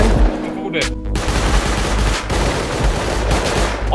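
Rapid bursts of gunfire in the survival video game Rust, loud and close, crackling in dense overlapping volleys across the whole stretch with a few heavier booms near the start.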